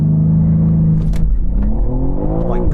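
A BMW M3 CS launches hard from a standstill, its engine roaring loudly and climbing in pitch through the revs, close and alone without talk.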